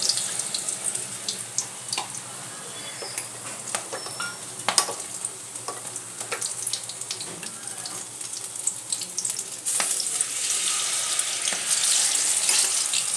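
Onion pakoras frying in hot oil in a home kitchen, a steady sizzle with scattered crackles and pops, growing a little louder and denser toward the end, with no talking.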